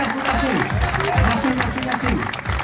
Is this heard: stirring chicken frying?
no